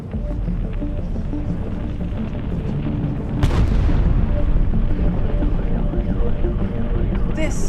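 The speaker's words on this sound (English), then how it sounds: "Thousands of people saw this massive fireball which exploded in the sky" A bolide meteor fireball exploding in the sky, heard as a steady low roar that breaks midway into a loud, deep boom, followed by a heavier rumble that lingers to the end.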